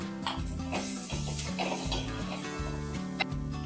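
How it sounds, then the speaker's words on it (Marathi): Onion frying in oil with salt and turmeric, a steady sizzle under rhythmic scraping and stirring of the pan, close and continuous, with a low hum beneath and no speech. "तेलामध्ये चांगला आपण कांदा भाजून घ्यायचा कांदा चांगला भाजण्यासाठी आपण यामध्ये पाव चमचा मीठ घालूया"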